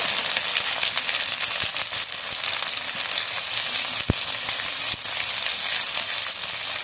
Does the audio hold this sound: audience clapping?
no